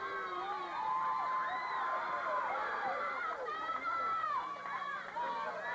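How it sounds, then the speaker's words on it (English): A wrestling arena crowd at a 1981 Georgia Championship Wrestling match chanting "Baby Huey," heard as a steady distant roar of voices with rising shouts and cheers, under a commentator's talk. "You can hear the crowd picking up the chant, Baby Huey, Baby Huey."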